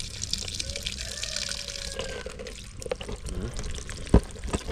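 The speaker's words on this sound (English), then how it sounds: "You just put water on it." Water is poured over soil outdoors at a home, a close liquid splashing and pouring that runs for a few seconds, ending in a sharp knock.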